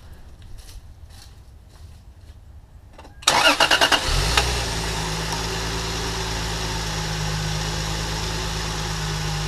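A Lexus IS300 fitted with a K&N cold air intake cranks over in a quick stuttering burst, catches and settles into a steady, even cold idle close by, after quiet background sounds.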